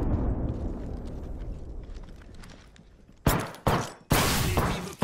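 A frag grenade detonates in Apex Legends, heard as three loud, sharp bursts in quick succession after a stretch of rumbling gunfight noise, each blast close and forceful with a short decay.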